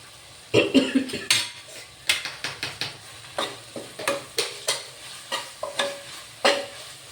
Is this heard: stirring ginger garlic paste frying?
yes